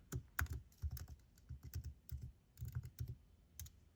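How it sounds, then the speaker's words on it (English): Rapid, uneven keystrokes on a computer keyboard as a password is typed, a close run of crisp clicks and taps with short pauses between bursts, no voices. "I'm going to type the password in here"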